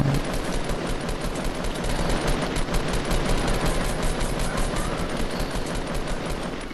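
Rapid, continuous automatic gunfire rattles loudly and without pause in the video game Fortnite, with bursts blending into one another and no talking.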